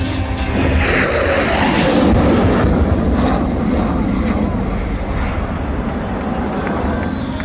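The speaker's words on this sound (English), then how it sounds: "The last flight past by the F18." A Royal Australian Air Force F/A-18 Classic Hornet jet roars past at an air show, a loud, broad, continuous rumble with a sweeping hiss that holds steady throughout, with crowd and announcer voices mixed beneath it.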